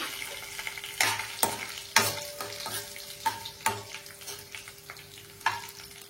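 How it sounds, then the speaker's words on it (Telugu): Dried red chillies frying in oil with cumin and mustard seeds for masala dosa filling: a soft sizzle punctuated by repeated sharp scrapes and taps of a stirring spoon against the pan, with no talking. "ఎండుమిర్చి, ఫ్రై అవనిద్దాం"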